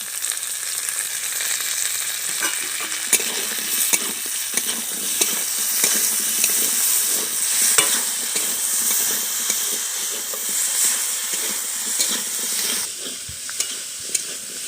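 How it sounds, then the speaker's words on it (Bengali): Diced potatoes frying in oil with ginger-garlic paste and green chili paste, a loud continuous sizzle with frequent close stirring scrapes throughout, no voices. "আলুটা ভালো করে কষিয়ে নিয়েছি, এবার আদা রসুন বাটা দিয়ে দিচ্ছি, কাঁচা লঙ্কা বাটা দিয়ে দিচ্ছি"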